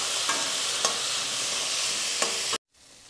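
Onion and tomato sautéing in a pan for a mutton kuzhambu produce a steady, close sizzle with a few spatula scrapes, then stop abruptly near the end.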